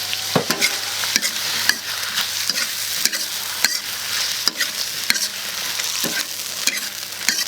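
Pork liver and lettuce stem stir-frying in a wok with a soy sauce, oyster sauce and starch mixture, giving a loud continuous sizzle broken by repeated sharp clacks of the spatula scraping and tossing.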